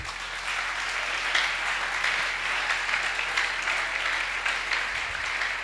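A church congregation applauds steadily for several seconds, a dense, even wash of clapping filling the room with no speech over it.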